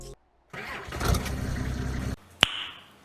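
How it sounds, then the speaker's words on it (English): A TLX 2020 truck mod with a 4.2 liter turbocharged engine in Farming Simulator 19 cranks and starts, rumbling loudly for about a second and a half before cutting off, followed by a single sharp knock. "but this is the startup sound. He did a really good job on this."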